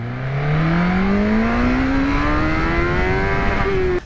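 An MV Agusta 1090 Brutale RR inline-four motorcycle engine revs steadily upward in first gear, a loud, close, rising howl that cuts off abruptly near the end.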